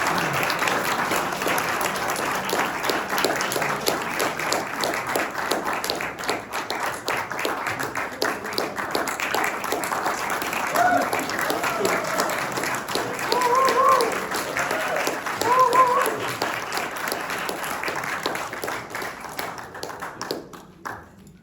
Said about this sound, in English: big round of applause for these presentations